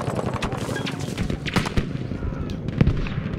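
Battlefield V sniper battle on the Fjell 652 map in Breakthrough mode: scattered rifle shots and distant gunfire pop irregularly amid battle noise, with players talking over it.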